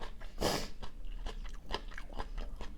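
Close, crunchy chewing and biting of homemade Thai om chicken curry: a sharp bite followed by a quick series of moist, crunchy chews, faint and intimate with no talking.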